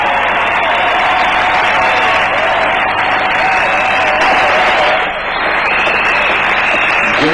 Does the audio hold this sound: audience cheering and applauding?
yes